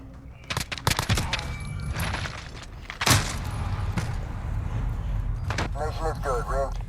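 Bursts of L86 LSW light support weapon fire in Call of Duty Modern Warfare, several sharp volleys of shots in the first half with one heavy report near the middle, over game background noise and a voice talking.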